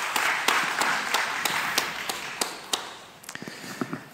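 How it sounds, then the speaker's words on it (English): Audience clapping in response to a show-of-hands vote on whether the European Union will collapse, a burst of scattered hand claps that thins toward the end into a few sparse, separate claps. "please clap now"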